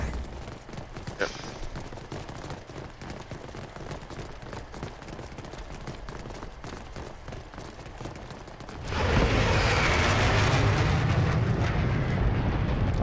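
Rapid video-game gunfire aimed at mines rattles on steadily, then a louder, dense burst of shooting or blast noise swells and holds for the last few seconds.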